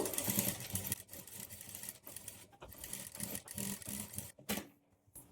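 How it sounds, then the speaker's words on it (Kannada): A sewing machine runs a steady, rapid stitch alongside thread piping on the neck of a boat-neck blouse, whirring continuously at moderate volume with a few brief pauses and restarts near the end. "ನಾವು ಈ ಪೈಪಿಂಗ್ ಪಕ್ಕದಲ್ಲೇ ಸ್ಟಿಚ್ ಹಾಕ್ಕೊಳ್ಬೇಕು"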